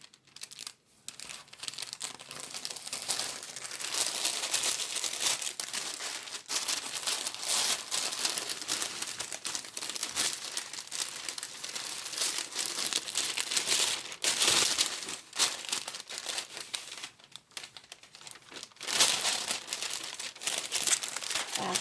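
A T-shirt being handled and turned inside out while tape is pressed onto it, giving continuous close fabric rustling and crinkling with brief pauses throughout.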